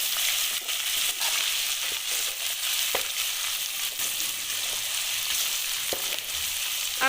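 Ginger goes into a pan of browned onion and garlic frying in oil while a tinda curry is cooked, giving a steady, close sizzle with occasional stirring scrapes and taps, no talking.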